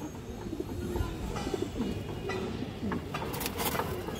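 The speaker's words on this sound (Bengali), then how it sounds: "খুবই চঞ্চল একটা কবুতর" A restless ring-eyed pigeon coos in a loft, low murmuring calls repeating through steady background hum, with a few sharper sounds toward the end.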